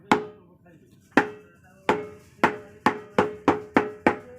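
Tapping the sides of an old handmade dhol drum while tuning it: eight sharp knocks, sparse at first then settling into a steady, quickening rhythm, each with a short ringing tone, close and alone.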